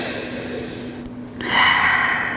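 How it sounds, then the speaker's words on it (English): A person in child's pose takes a deep breath during a yoga session, a sharp inhale followed by a long, airy exhale close to the microphone. "Taking a few deep breaths here"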